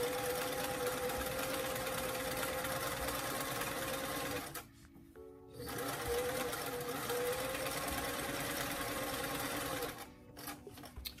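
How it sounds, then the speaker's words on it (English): A sewing machine runs a zigzag stitch on a small doll blouse, humming steadily and loudly up close, with a brief pause midway and another short break near the end. "So I'm just gonna take a zigzag stitch of about a 3x3 width."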